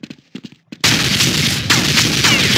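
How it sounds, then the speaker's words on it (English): Dense burst of gunfire in the old version of the Counter-Strike game, a loud sustained volley following a few brief muffled thumps, continuous and close. "Oh, he shot me."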